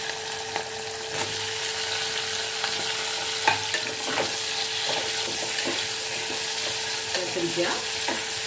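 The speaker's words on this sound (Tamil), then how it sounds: "கத்திரிக்காய் நல்லா வதங்கிடுச்சு" Ground brinjal paste sautés in a pan for a Tamil brinjal gravy, a steady sizzle with a spoon scraping and stirring at irregular intervals, close and alone.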